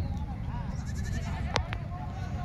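Osmanabadi goats at a busy goat market in Vasmat, Hingoli, one giving a short bleat amid constant crowd chatter and voices of people talking nearby.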